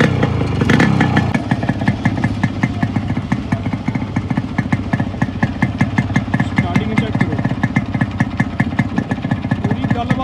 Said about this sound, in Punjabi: ਸਟਾਰਟਿੰਗ ਇਹਦੀ ਇੰਨੀ ਵਧੀਆ ਬਾਈ, ਅੱਧੀ ਕਿੱਕ ਵੀ ਨਹੀਂ ਲੈਂਦਾ ਹੈਗਾ ਜਦ ਸਟਾਰਟ ਹੋ ਜਾਂਦਾ।